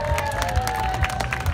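A small outdoor crowd at a Canada Day market celebration claps and cheers briefly, a short burst of scattered applause with a few voices mixed in.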